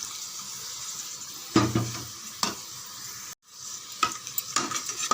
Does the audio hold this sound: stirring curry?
yes